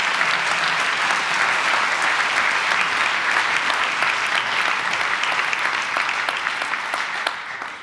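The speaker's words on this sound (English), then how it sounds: "So let's give them a big round of applause first." Sustained audience applause at an inventors-of-the-year award event, dense and steady throughout before easing slightly at the end, with no talk over it.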